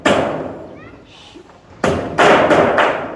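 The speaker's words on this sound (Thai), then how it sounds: "การตอกนี่ก็สำคัญได้พี่น้อง" Hammer blows on aluminium-zinc roofing sheet, a handful of sharp metallic thuds, close and loud, with someone talking over the first part before three or four strikes ring out.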